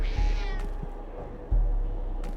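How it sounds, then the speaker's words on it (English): A cat meows in the video game The Shaman's Ark, two short meows about a second apart, heard alone over quiet game ambience. "I heard a cat."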